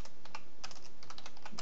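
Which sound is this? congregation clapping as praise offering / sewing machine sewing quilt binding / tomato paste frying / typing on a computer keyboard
typing on a computer keyboard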